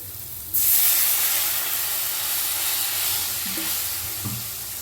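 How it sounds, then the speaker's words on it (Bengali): Water poured into a pan of hot fried masala for a fish curry makes a sudden loud burst of steamy hiss and sizzle that stays strong, then eases slightly, with faint stirring clanks. "মশলাটা খুব ভালো করে কিন্তু কষে নিয়েছি এবারে দিয়ে দেব জল"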